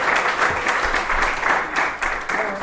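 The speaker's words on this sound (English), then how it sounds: "So give them a round of applause." A live comedy show audience applauds steadily for a couple of seconds, dense clapping mixed with a few cheers from the crowd.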